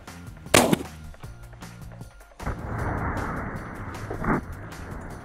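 A shotgun fires Speed-Shok No. 2 waterfowl shells through a modified choke at a target 40 yards out. Two sharp, loud reports about four seconds apart stand out over a quiet outdoor background.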